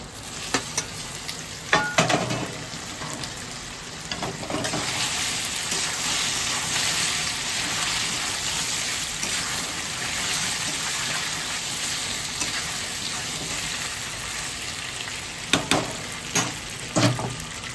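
Taro pieces frying in hot oil in a pan, with a steady sizzle and louder bursts of stirring near the start and end.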